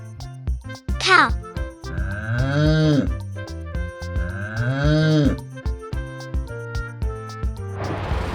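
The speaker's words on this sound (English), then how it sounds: "Cow." A cow moos twice in long, rising-and-falling lows over a bouncy children's music backing, with a voice and a higher animal call nearby.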